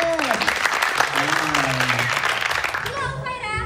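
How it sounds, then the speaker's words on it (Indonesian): Audience applause welcoming a contestant at a beauty pageant talk show, a steady wash of clapping running throughout with a voice speaking over it and a short musical flourish near the end. "Tepuk tangan boleh."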